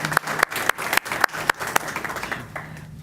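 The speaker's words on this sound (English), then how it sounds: "You can applaud if you want to do that." Audience at a school board of education meeting claps for a few seconds, a sparse group applause with distinct individual claps, tapering off at the end.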